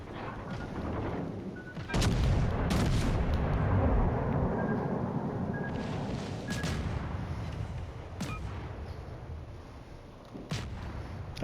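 Naval gunfire in the World of Warships Legends game: heavy booming salvos and explosions thud in bursts over a continuous rumbling battle background, loud and close with some sharp individual shots.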